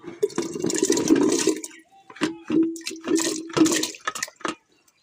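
Fresh turmeric tipped into a pot of hot water: a run of splashing and pouring near the mic, then a few separate splashes and drips, fairly loud, with no talk.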